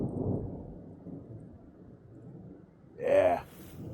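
Thunder rolls during a thunderstorm at a truck campsite: low rumbling fills the background, then a sharper, brighter crack swells briefly near the end before fading.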